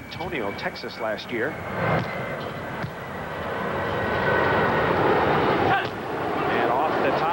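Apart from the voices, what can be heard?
jet airliner flying overhead near San Jose International Airport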